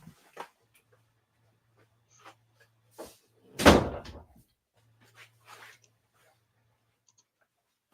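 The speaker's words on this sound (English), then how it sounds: "Damn dog opens my door." Sparse household knocks and a louder thump and clatter midway as a dog pushes open a door, indoors and fairly near, with small bumps before and after.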